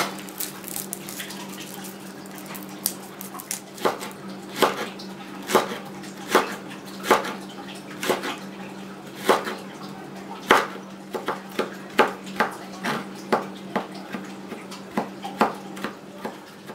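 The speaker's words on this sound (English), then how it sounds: "we want to mince a few cloves of garlic" A knife mincing garlic cloves on a cutting board for a spicy shrimp and asparagus stir fry: a steady run of sharp, close chopping taps over a low constant hum.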